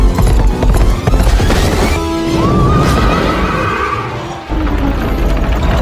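Horses gallop in a rapid, dense patter of hoofbeats, loud and close. A whistle or whinny-like rising tone rises midway, and the hooves drop off briefly before resuming.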